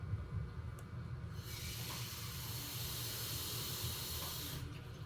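Onion and tomato dropped into a hot pan, giving a soft, steady hiss of sizzling that swells partway in and fades near the end, fairly faint and heard alone.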